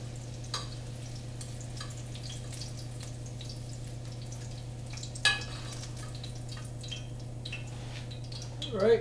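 Soft, steady crackling and sizzling of hot oil under a low constant hum, with occasional small pops and a louder clatter near the end.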